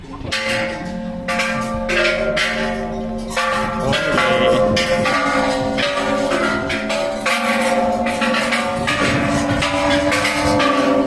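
Temple bell at a Thai wat struck repeatedly, a sustained ringing with layered harmonic tones filling the whole stretch, loud and close, with successive strikes overlapping and no pause between them.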